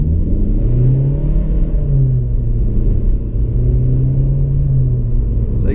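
Citroen C4 Cactus diesel accelerating hard at full throttle, heard from inside the cabin as a loud, steady engine drone and low road rumble, with the pitch rising and falling through the pull and no voices.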